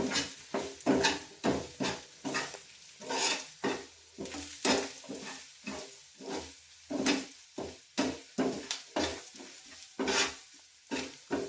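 Bisi bele bath spice powder being stirred into a hot tempering in a pan: a steady series of scraping, sizzling strokes at a brisk, regular rhythm, close and fairly loud, with no voices.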